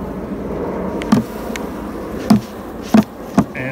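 Honey bees being shaken from a frame into a nuc box fill the air with a dense, close buzzing, broken by a few sharp knocks.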